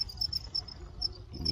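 Large, well-fed crickets raised as live food for white-breasted waterhens give repeated high, sharp chirps in quick pulses. A low rustling patter sits underneath, close by, with no voices.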